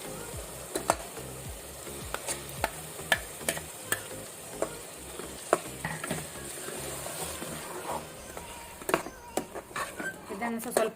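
Ground masala paste frying in a pan for mutton masala, giving a steady sizzle with frequent sharp ticks and scrapes from a stirring spoon, close by, while a person talks over it.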